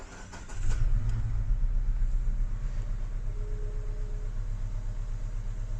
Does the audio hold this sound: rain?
no